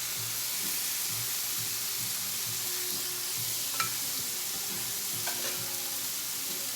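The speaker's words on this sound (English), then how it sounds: "I'm sure you hear that sizzle." Steaks sizzle steadily in a hot pan, a continuous crackling hiss with occasional sharp pops, heard alone at moderate volume.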